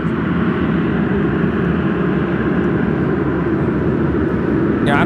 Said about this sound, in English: This arrival is United Airlines 2311 coming in from Houston Intercontinental on the 737-800.